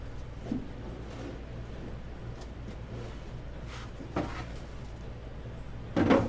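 A drawer is pulled open and rummaged through during a craft stencil painting session, with soft scattered clunks and rustles, closer knocks near the end.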